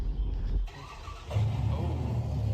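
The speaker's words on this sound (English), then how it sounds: "a security truck suddenly started up right in front of them" A security truck's engine starts up nearby with a low, steady rumble; a brief lull follows, then a louder, sustained idle sets in.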